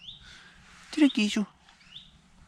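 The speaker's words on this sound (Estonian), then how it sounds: "Mingi huvitava häälega lind on siin." A bird gives a short, odd burst of call notes, clear and fairly close, over quiet outdoor background with faint thin chirps.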